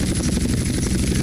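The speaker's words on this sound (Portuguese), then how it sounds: "E agora aterrissar o helicóptero." A helicopter comes in to land in GTA San Andreas, a loud, steady rotor thrum with dense engine whine filling the whole moment.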